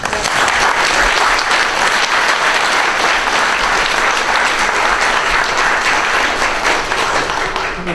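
A San Francisco VA town hall audience breaks into steady, loud applause welcoming Congresswoman Jackie Speier, sustained clapping filling the room without pause.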